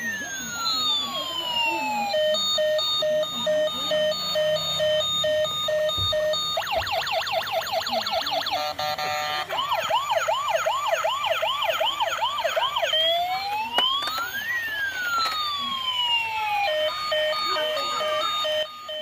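An ambulance siren blares loud and close in a children's skit, cycling through long rising-and-falling wails and rapid warbling yelps for almost twenty seconds, with faint voices underneath.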